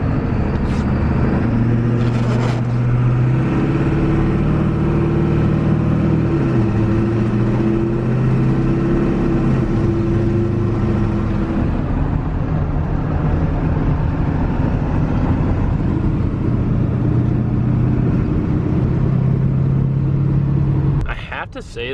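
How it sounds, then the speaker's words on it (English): A 500 HP 7.3 diesel Ford OBS truck revs hard through its exhaust, loud and close, with a deep rumble that rises and falls for about twenty seconds before cutting off abruptly. "Give you guys a little exhaust clip."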